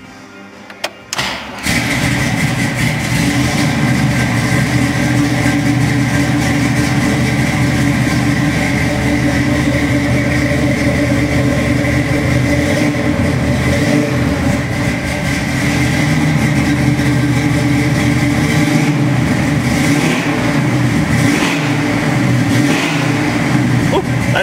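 A 1968 Chevrolet Camaro RS/SS 396 convertible with a four-speed is started in a parking lot, and its V8 settles into a loud, steady rumble with light throttle blips throughout.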